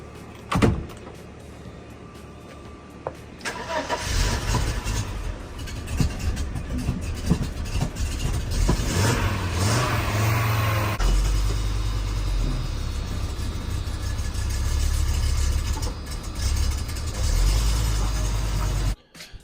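A barn-find Audi engine with an intermittent stalling fault cranks and starts after some rattling and clicks, then runs with a steady rumble that grows deeper partway through before cutting off.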